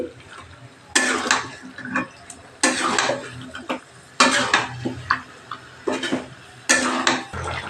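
Home-raised chicken meat being stirred in a cooking pot, a run of scraping, clattering spoon strokes in separate bursts about every second or two, close and clear over a soft sizzle.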